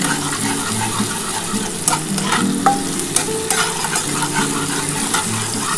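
Onions fry in a pan for an egg poach curry, a steady close sizzle with occasional stirring scrapes throughout and no talking.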